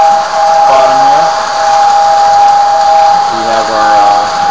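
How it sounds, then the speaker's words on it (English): A K-Line model steam locomotive on a computer-controlled layout gives a steady, loud hiss of steam with a sustained whistle-like tone running through it. Faint voices are heard underneath. "we have our old steam engine. It's actually a K-line engine"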